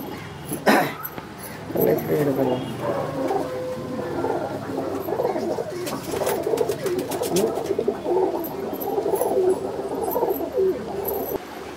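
Pigeon cooing at close range, with soft repeated coos running steadily through the whole stretch. Other bird noises and faint background sounds mix in, with no speech.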